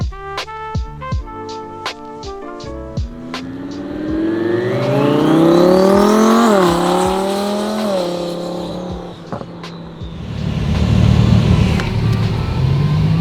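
A twin-turbo Audi R8 accelerates hard, its engine note rising in pitch through the gears as it pulls away, loud and close, after a few sharp knocks and into a rough roaring rush at the end.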